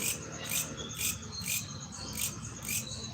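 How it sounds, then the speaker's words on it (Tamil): Cicadas buzzing inside dense plants outdoors, a loud steady drone pulsing in regular waves about twice a second, close and continuous with no talk. "சிலுவண்டு சவுண்டு தான் இந்த செடிக்குள்ள"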